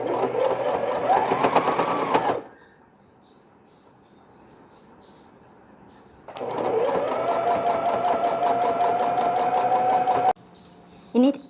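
A sewing machine stitches the sides of newborn baby underwear at home. Two loud, close bursts of rapid mechanical whirring are split by a quiet pause, and a brief third burst follows near the end.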